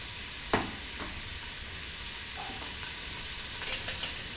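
Beef sears in oil in a pot as a base for stew, giving a steady soft sizzle with a few faint spoon clinks and stirring touches near the end, no talking.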